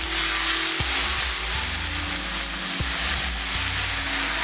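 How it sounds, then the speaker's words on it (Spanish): A pork chop drops into very hot oil and sets off a loud, dense, continuous sizzle that fills the whole stretch, close and unbroken, with no voices. "Voy a escurrir bastante bien mi chuleta y la voy a poner así directamente."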